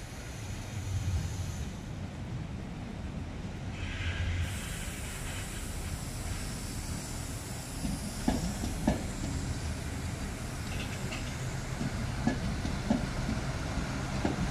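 A train pulls into a station on an Italian regional line, with steady hissing and rumbling throughout and scattered clicks and clanks of wheels over rail joints in the later part.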